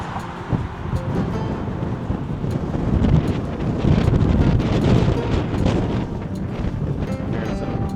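Strong gusts buffet the microphone outdoors on a walking tour of a Minneapolis neighborhood, producing a loud, continuous low roar that swells and eases, with faint scattered ticks over it.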